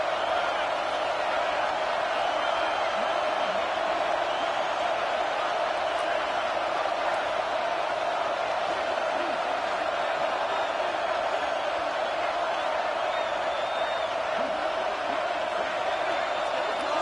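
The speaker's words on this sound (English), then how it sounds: "Crowd trying to help out here on 4th down." A stadium crowd roars steadily on a 4th down in an Oklahoma vs Georgia college football video game. The broad, constant wash of noise stays even throughout, with a commentator talking over it.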